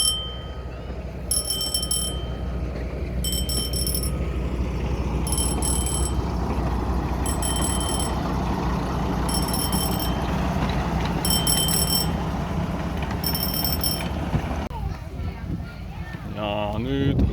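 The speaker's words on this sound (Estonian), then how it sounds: "Hoiatushelid, hoidu rongi eest." A loud electronic warning bell of a train at a railway museum rings in regular repeating bursts about every two seconds over a steady low rumble, with a voice speaking underneath.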